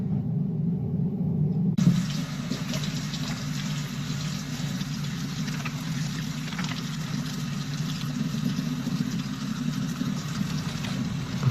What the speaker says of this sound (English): Before we get started, we're just gonna wash our hands real quick.